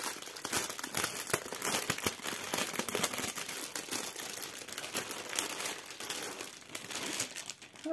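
Plastic packaging being opened and crinkled by hand, a busy close crackle of rustling and crumpling that continues steadily throughout.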